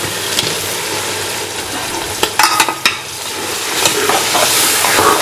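Boiled beef pieces tumble into a hot pot of oil with garlic, ginger and spices for Sindhi yakhni beef pulao, followed by a steady sizzle and a few clattering stirs of a spoon against the pot.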